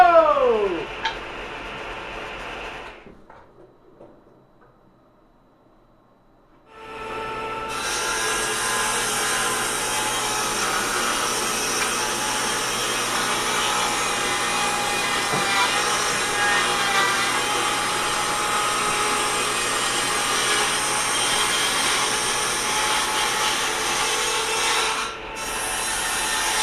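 A rebuilt table saw rips through wood: a brief high whine winding down at the start, a few seconds of near silence, then a loud, steady grinding cut lasting about twenty seconds with a short dip near the end.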